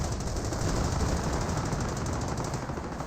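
An M2 machine gun fires in Company of Heroes, a dense rapid rattling burst that runs steadily and loud throughout the clip.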